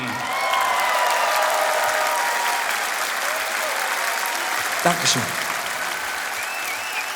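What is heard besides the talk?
audience applause for Kaffee Biermann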